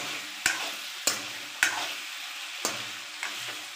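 Desi chicken frying in a pan and being stirred, with a steady sizzle broken by five sharp scraping stir strokes at uneven intervals, close and fairly loud, no talking.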